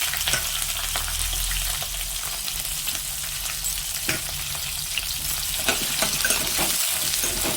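Dried red chillies, onions and green chillies fry in hot oil with cumin and mustard seeds, making a loud, steady close-up sizzle broken by occasional stirring clinks.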